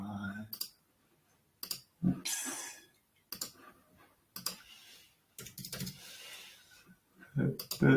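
A computer mouse clicks sharply and close, several single clicks spaced a second or two apart, with brief bits of French speech and quiet gaps between them.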